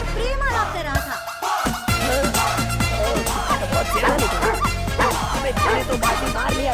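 A dog yips and barks repeatedly, loud and close, over a continuous music track with speech in the mix, in a Hindi-dubbed film scene.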